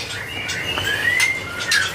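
A white-rumped shama (murai batu), a lively wild-caught bird, sings in clear, fairly loud whistled phrases and chirps that rise and sweep over two seconds, heard up close in a bird kiosk with faint background noise.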